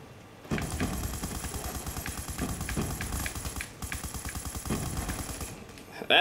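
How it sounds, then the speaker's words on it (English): Light machine gun fire in Black Ops 2, with long sustained automatic bursts rattling loudly and close for several seconds, briefly pausing before resuming, with a faint steady high whine running underneath. "That's what LMGs can do."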